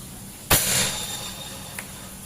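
A single sharp crack from a compact bullpup PCP air rifle fired at a metal target, followed by a brief ringing tail and a faint second tick a moment later.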